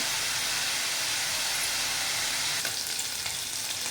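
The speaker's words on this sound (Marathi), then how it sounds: "पनीर बघा छान असं तुपामध्ये आपण सोनेरी असा ब्राऊन कलर थोडासा करून घेऊया" Paneer fries in ghee with a steady, close, dense sizzle that holds evenly throughout, joined near the end by a few faint scrapes and crackles.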